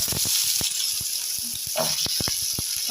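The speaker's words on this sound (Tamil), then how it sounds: "முதல்ல இந்த பாவக்காய் வந்து நம்ம எண்ணெயில் வதக்கி எடுத்துக்கலாம்" Bitter gourd sautéing in oil in a kadai gives a steady close sizzle with scattered crackles and pops throughout.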